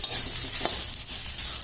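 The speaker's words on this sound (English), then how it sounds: "So it's better to stir" Bitter gourd fry being stirred in a pan over a medium flame, a steady sizzle with soft scraping and one brief clatter partway through, heard alone without any talk.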